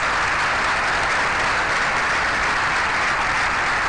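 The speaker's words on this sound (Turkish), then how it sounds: "Evet alkış" An audience applauds in a continuous, dense wash of clapping, even and fairly loud throughout with no voices standing out.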